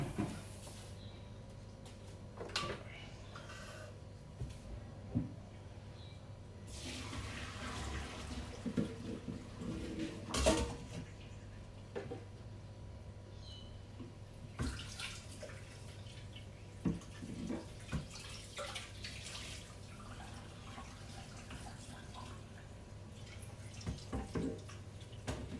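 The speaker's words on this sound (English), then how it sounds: "Alright, so I will pour this out and drain it." Water poured out of a Thermomix bowl and drained while making radish cake; quiet, intermittent splashing and trickling with soft drips and a few knocks, no voices.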